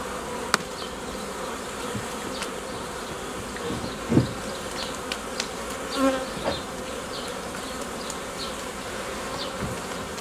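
Honeybees buzzing steadily at an opened hive, a nucleus colony that has overwintered, with a continuous close swarm hum and a few brief louder passes of individual bees near the microphone; no talking.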